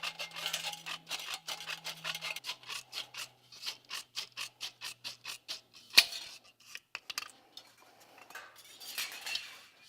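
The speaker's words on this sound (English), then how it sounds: "take my snips, and I'll just cut that off" Tin snips cutting vinyl siding trim, a close run of rapid crisp snipping strokes with a low hum underneath, then a sharp clack and scattered slower cuts.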